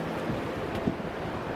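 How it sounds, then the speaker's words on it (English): Sea waves wash up a beach on the Welsh coast at Abereiddy, a steady close roar of surf with wind buffeting the microphone and no speech. "Don't underestimate how far the waves travel up the beach, especially at the edges"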